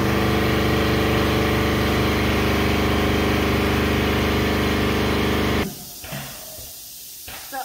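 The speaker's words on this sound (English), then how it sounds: "this is a cork machine, and so it will set out and it will do 750 milliliters" A winery cork machine filling 750 ml wine bottles and pushing corks in runs with a loud, steady mechanical hum and hiss, then cuts out abruptly, leaving a few quieter clunks and knocks.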